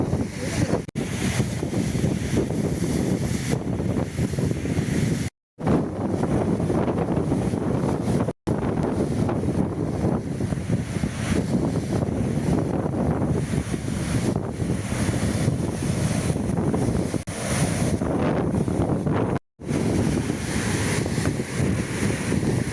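Rough sea and strong wind at the Nemmeli Kuppam coast near Mamallapuram during Cyclone Ditwah, a continuous loud roar of surf and wind buffeting the microphone, broken by a few brief dropouts, with no one talking.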